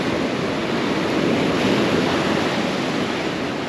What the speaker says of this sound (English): I've got my feet in the water and I'm looking out into the ocean